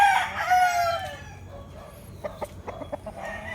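A sweater-type fighting gamecock at a farm in Tanauan City, Batangas, crows once loudly and close by, followed by softer clucks and scattered small sounds.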